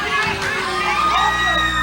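A wrestling crowd at a ladder match shouts and cheers in a dense, continuous roar, with individual yells rising above it and a commentator talking over the noise.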